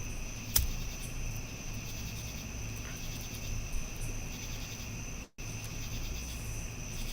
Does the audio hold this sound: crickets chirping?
yes